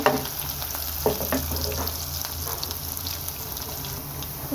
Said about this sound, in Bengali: এই পর্যায়ে পেঁয়াজ আর রসুনটাকে আমি একটু ভালো করে ভেজে নেব